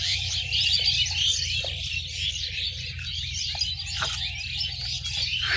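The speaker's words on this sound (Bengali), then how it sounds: "পাখির আওয়াজ শুনি না কতদিন, পাখির আওয়াজও পাচ্ছি" Small birds chirp and tweet repeatedly in a rural Bangladeshi village, bright calls layered over a steady low rumble of outdoor background noise, with a few sharper calls standing out.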